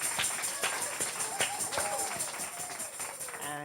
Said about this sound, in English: Can we give Kamara a round of applause?